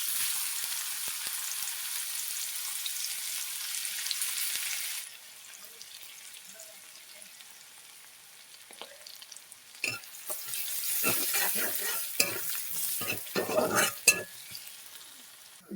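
Garlic dropped into a hot pan for a red amaranth leaf fry: a steady high sizzle for the first seconds, a quieter lull, then louder spitting and stirring bursts toward the end, with no talk.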